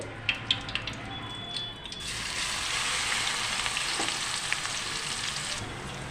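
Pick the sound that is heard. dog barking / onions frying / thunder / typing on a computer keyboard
onions frying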